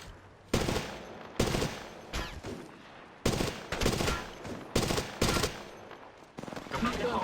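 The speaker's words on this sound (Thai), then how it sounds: "ฟังนะฉันกำลังถูกยิงใส่" Repeated bursts of automatic gunfire in the mobile shooter Apex Legends Mobile, sharp loud volleys separated by short pauses, with faint game voice prompts and background noise between them.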